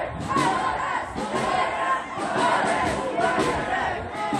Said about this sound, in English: Renewed calls from the crowd for everybody to stay grouped together.